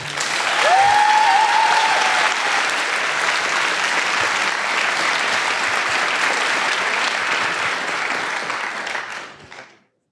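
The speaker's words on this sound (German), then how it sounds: "Und nochmal bitte einen kräftigen Applaus für Mentorin Paula." An audience at a Jugend hackt Berlin youth hackathon applauds mentor Paula, loud sustained clapping from a crowd that holds for about nine seconds before quickly fading out.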